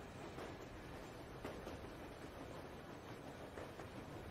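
Low rumbling train yard ambience in the video game Metro Exodus, a faint steady rail and wind-like drone with soft rhythmic clatter, no speech.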